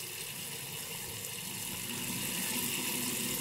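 Tap water runs steadily in a bathroom sink during a wet shave with an Ikon B1 Standard safety razor, a constant close hiss with no pauses and no voices.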